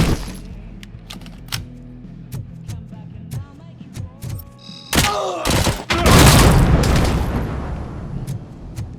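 Gunfire and booming impacts from the video game Robocop Rogue City, sparse sharp shots early, then a loud dense burst of blasts and crackling around the middle, with in-game voices mixed through.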